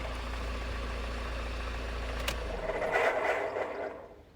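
A Honda CR-V 2.2 i-CDTi diesel idles steadily at close range, then shuts off, its low drone fading into a brief mechanical rattle and settling away into quiet.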